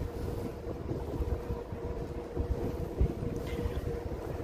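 Steady rushing wind on the largest island of the Isles of Scilly buffets the microphone with low rumbling gusts, continuous throughout and fairly loud, with no talking.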